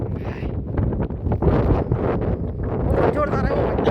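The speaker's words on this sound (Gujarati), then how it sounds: "पवन जोरदार है, खतरनाक पवन" Strong gusts of a cyclonic storm buffet the microphone outdoors, with roaring, uneven wind noise rising and falling throughout while people talk underneath.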